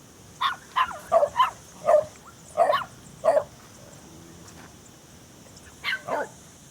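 Dogs at a home in Ibiza bark in a run of about six sharp, evenly spaced barks, then a pause and two more, moderately close against a quiet background.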